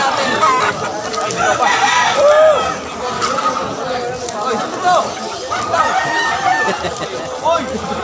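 Fighting roosters at a Malabon pet market crow and cluck amid a crowded hubbub, several calls rising over steady market chatter and nearby voices throughout.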